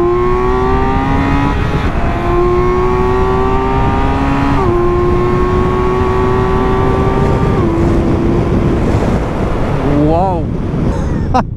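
BMW motorcycle accelerating hard at high revs down a straight at MotorPark Romania circuit, a loud continuous rising engine whine that climbs through several gear changes, with strong wind rush throughout.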